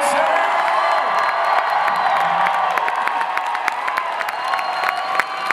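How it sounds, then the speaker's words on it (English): An audience at a Twisted Toonz panel at Salt Lake Comic Con 2017 bursts into sustained applause, dense clapping mixed with crowd cheers and a few whoops, loud and continuous throughout. "Big round of applause for these guys and ladies"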